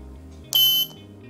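A SmartThings door chime sounds its third tone: one brief, loud, bright electronic beep lasting about a third of a second over a low background tone.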